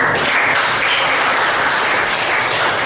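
Dense, loud applause from a classroom audience after a group presentation, an even wash of clapping that holds steady without pause and with no talk over it.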